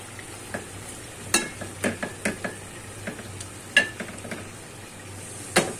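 Water lily stalks sizzle softly in a pan while a spatula stirs and scrapes, producing a string of short scraping knocks at an irregular pace.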